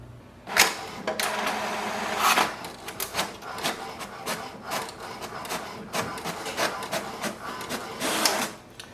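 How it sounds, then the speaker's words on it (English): An HP Deskjet 2942 inkjet printer runs an information-page print job, giving a steady mechanical whirr with repeated bursts of print-head and paper-feed movement. It stays close and loud throughout, with no voices. "So printer will print the printer information page."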